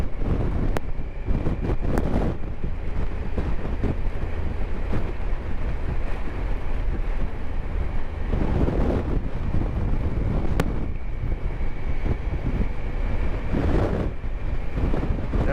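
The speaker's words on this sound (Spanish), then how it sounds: "Viento por acá, mucho viento." Strong wind roars steadily against the microphone of a motorcycle on the road to Pasto, a loud, constant buffeting rumble with a few brief knocks.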